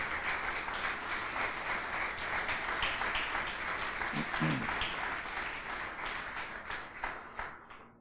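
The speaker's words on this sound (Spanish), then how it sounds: "¿Cuántos le dan un aplauso a Jesús bien fuerte?" A church congregation applauds loudly after a sermon prayer, dense steady clapping across the whole stretch, with a few low murmurs midway and the clapping thinning slightly near the end.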